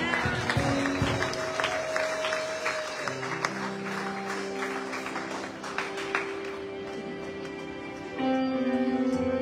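A church congregation applauds to acclaim Jesus, steady dense clapping from a crowd carrying on throughout, with sustained organ or keyboard chords ringing over it and a louder swell near the end.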